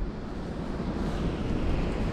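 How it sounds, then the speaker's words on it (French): Strong wind roars steadily across the microphone aboard a fishing boat at sea during mackerel fishing, a loud, continuous rumbling gust with faint wash of waves beneath, no voices. "il y a un sacré vent"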